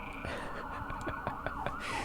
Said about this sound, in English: Sirens are adding to it, right?